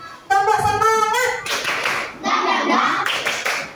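Children in a classroom clap their hands in a quick, loud burst of rhythmic claps for a spirit-clap chant, mixed with children's voices and chanting.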